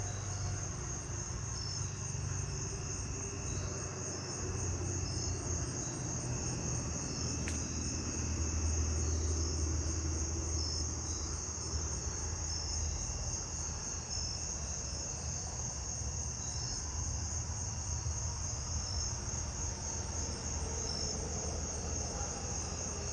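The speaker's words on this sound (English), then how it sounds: "I just want to let you hear the jumping bush crickets real quick because there's more of them." Jumping bush crickets chirp in a backyard at night, a dense, continuous high trilling chorus from many insects, steady and moderately faint, with no voices.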